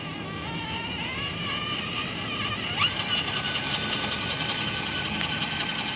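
An FMS Camel Trophy Discovery RC crawler drives in low gear, giving a steady, continuous electric motor and gear whine with a slight rise partway through, fairly close and without any talking.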